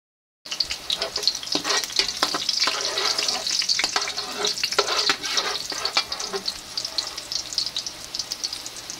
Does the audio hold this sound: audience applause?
no